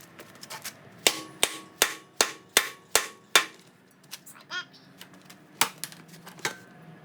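A hammer taps a crankshaft extension into place on a 2JZ engine, striking about eight sharp, evenly spaced metallic blows, then a few scattered lighter taps and clinks, close and clear with no talking.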